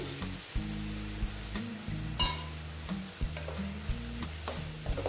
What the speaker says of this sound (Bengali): একটু পোস্তর সঙ্গে কষিয়ে নিচ্ছি।